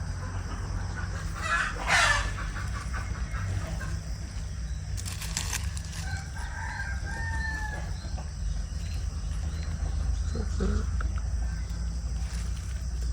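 Chickens cluck on and off over a low, constant hum, with a rooster crowing somewhere in the flock.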